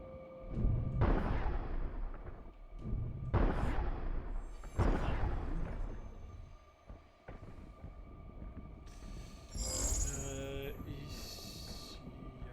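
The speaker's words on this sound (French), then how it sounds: "On dirait un bruit de canon." Three heavy booming cannon-like blasts ring out a couple of seconds apart in the video game Pragmata, each with a rolling tail, followed by a synthetic voice announcement.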